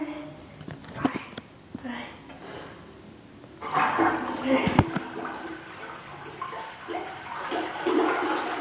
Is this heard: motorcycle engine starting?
no